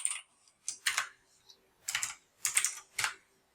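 Quick bursts of keystrokes on a computer keyboard while entering a note, close and clear, in short irregular clusters separated by brief pauses.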